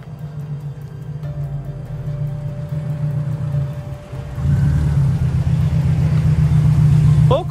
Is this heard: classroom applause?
no